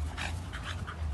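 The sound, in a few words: dog panting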